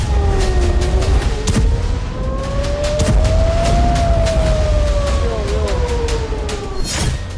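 Air raid sirens wail across Israel during an Iranian missile attack, a loud rising and falling tone sustained throughout with a second siren overlapping, over a constant rumbling background and a few sharp thumps.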